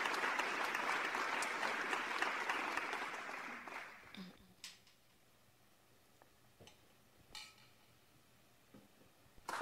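An audience at a televised singing show claps loudly and steadily for about four seconds, then the applause fades out. A few sharp clicks and knocks follow in the quiet.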